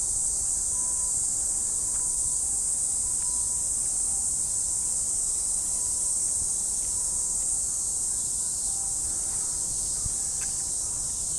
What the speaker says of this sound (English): I hope those cicadas don't make this video annoying to listen to